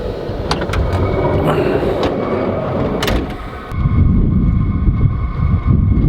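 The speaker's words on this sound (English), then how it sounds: "The wind's blowing, so the wind chill factor is well below 0 degrees." Strong wind buffets the outside of a van in arctic cold around 1 degree Fahrenheit, a loud steady rushing roar with occasional sharp knocks, growing heavier and more turbulent toward the end.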